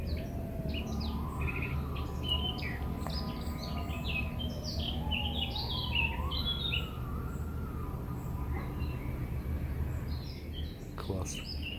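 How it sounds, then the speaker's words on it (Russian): Birds sing and chirp in repeated bright phrases on a mountain trail, moderately close against a steady low background rumble, with a soft swooping tone underneath. "И пение птиц."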